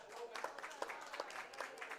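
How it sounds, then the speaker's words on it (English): A small crowd at a racquetball club applauds the women's singles champion, with quiet, scattered clapping heard from a distance. "Crowd gives her a round of applause for being this year's champion."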